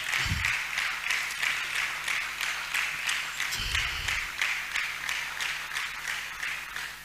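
An audience at a university inter-faculty debate competition in Nigeria claps in a steady, rhythmic pulse about twice a second. The even beats carry on unbroken, with a couple of low thumps underneath.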